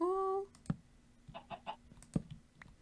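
A chicken in the Minecraft video game gives a few short, soft clucks spaced apart, after a brief tonal sound at the start, fairly faint and without speech.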